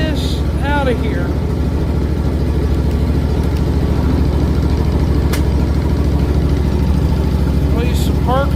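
A John Deere X300 lawn tractor engine runs just after a cold start, holding a steady, close, loud idle throughout, with brief voices near the start and end.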